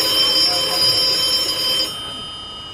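An electronic telephone rings with steady high tones for about two seconds, then stops, leaving a quieter background; close and fairly loud.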